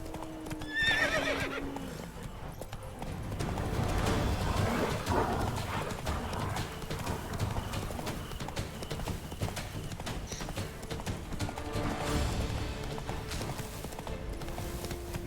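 Roach, the horse in The Witcher 3 game, gallops with steady rapid clip-clop hoofbeats throughout, giving a loud whinny near the start and another neigh later, over continuous ambient game sound.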